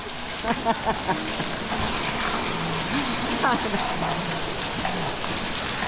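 A steady, broadband wash of rain falls nearby, with voices talking intermittently over the constant patter.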